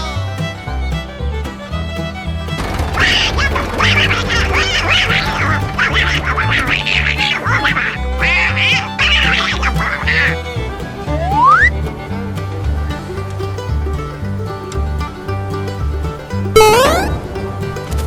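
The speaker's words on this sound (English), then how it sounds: "quack quack quack quack." Cartoon-style duck quacks repeat loudly in rapid bursts over bouncy music, with whistle-like slides and a rising squeak near the end.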